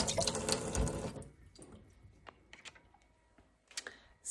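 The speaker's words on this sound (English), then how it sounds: "That's not very much water pressure." Kitchen sink faucet with low water pressure, a hissy spray for about a second, then thin trickling and scattered drips and taps that flare briefly near the end.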